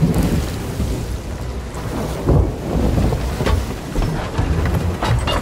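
A thunderstorm at sea in a galleon video game: heavy, steady rain roars with low rumbling thunder that swells and falls, loud throughout and with no voices.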